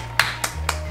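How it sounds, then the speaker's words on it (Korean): A few separate hand claps, about four crisp, close strikes spaced roughly a quarter second apart, over a low steady hum, in a Korean entertainment setting. "둘 다 박수."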